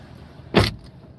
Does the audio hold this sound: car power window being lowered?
yes